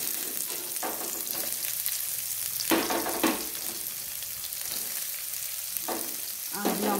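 Chopped onion fries in a pan with a steady close sizzle and crackle, broken by several scraping stirs of a utensil; no one speaks.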